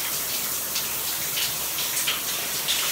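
Steady shower water running in a broken home shower early in the morning, a continuous broadband hiss and spray with slight fluctuations, close and fairly loud with no voices.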